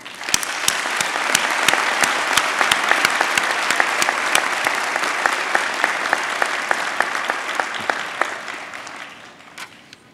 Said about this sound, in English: Let us recognize all those who have helped and cheered us on with a round of applause